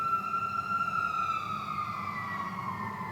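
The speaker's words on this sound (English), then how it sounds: "I don't know why they're turning their sirens on." An emergency vehicle siren wails with long, slowly falling and rising tones, held steadily loud for the whole stretch over a low rumble of traffic, with no talk.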